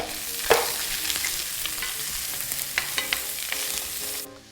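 Onions frying in melted butter in a pan for lamb tagine, a loud close sizzle with scattered spatula clicks and scrapes, ending abruptly; no voices.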